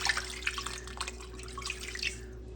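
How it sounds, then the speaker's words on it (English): Water poured from a container into a bowl of navy beans for ham soup: a quiet, steady trickling splash with small bubbling and dripping accents over a low background hum, no talking. "I'm gonna fill this bowl up with water and have it come to cover up everything."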